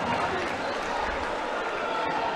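Stadium crowd at a Turkish third-league football match between Orduspor 1967 and Zonguldak Spor applauding player Muhammed Can, a steady broadband wash of distant clapping and crowd noise beneath commentary.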